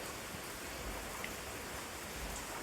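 Soft, steady monsoon rain falls in the Konkan region during flooding, a faint, even hiss with no voices.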